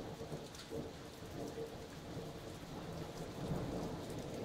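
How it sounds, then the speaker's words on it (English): Hail and rain falling in a storm on a farm, a faint, steady patter of drops hitting surfaces with a low rumble underneath, continuous throughout. "Heard some of the hail"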